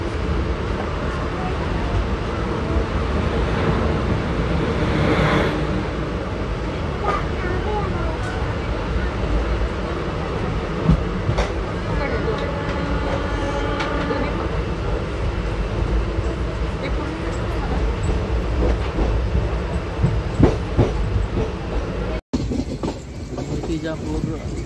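From inside the 22137 Prerna Express, hauled by an electric locomotive between Nagpur and Akola, comes a loud, continuous rolling rumble with scattered wheel clicks and rattles that stay steady throughout.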